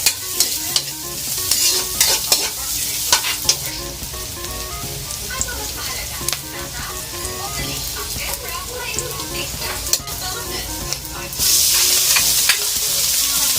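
Chopped garlic sizzles loudly in hot oil in a frying pan as it is stirred, with steady crackling, scraping strokes, and a surge of hiss near the end, close by with no talk.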